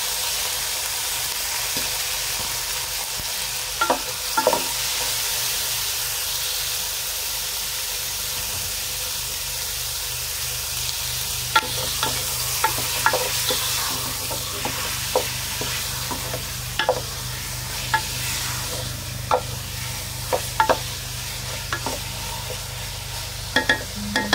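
Chicken sizzling in a frying pan for a chicken dish with upo and malunggay, a steady hissing fry with scattered light clinks and scrapes of a spatula, no talk.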